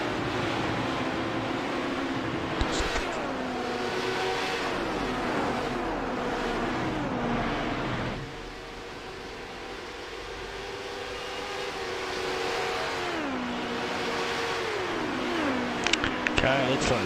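Le Mans prototype race cars, LMP1 and LMP2, lapping Circuit de la Sarthe in the iRacing simulator, engines droning continuously with pitch sweeps as gears shift, dropping briefly midway before building again.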